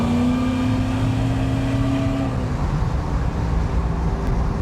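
A modified muscle car engine pulling at quarter throttle, a loud droning rumble with a rising tone that levels off and fades into road and wind noise, heard from inside the car without talk.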